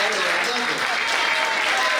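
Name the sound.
applause for Carmen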